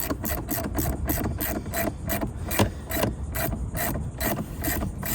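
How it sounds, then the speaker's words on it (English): A 13/16 spark plug wrench works the plug on a Predator 3500 generator, a rapid run of ratcheting clicks, close and steady for several seconds with no talking. "13/16 spark plug wrench works just fine"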